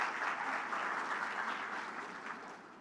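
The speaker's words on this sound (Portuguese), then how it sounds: "Uma salva de palmas para a Débora" A church congregation applauds for Débora, a steady wash of many hands clapping at moderate distance, fading slightly as it ends.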